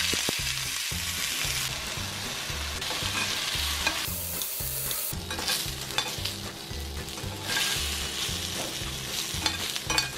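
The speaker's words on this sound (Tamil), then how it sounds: "ஸோ நம்ம சாசேஜ் ஃப்ரை பண்ணியாச்சு" Sausages fry in a little oil on a tawa, a continuous loud sizzle with rhythmic scraping strokes of stirring, no talking.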